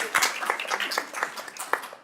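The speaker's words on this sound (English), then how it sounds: "We can clap to that." An audience claps at an award event for healthy homes, giving a short burst of scattered, uneven handclaps of moderate loudness, with no voices on top.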